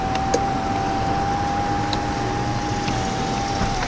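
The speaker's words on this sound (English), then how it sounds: "the front portion does open up just like a traditional moonroof" The power moonroof on a 2020 Subaru Ascent slides open with a steady, even motor whine that runs for a few seconds inside the quiet cabin, over a faint background hum.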